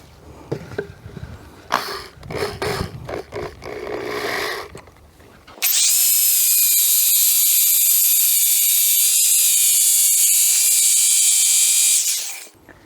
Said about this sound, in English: just as this part of the hole saw touches the wood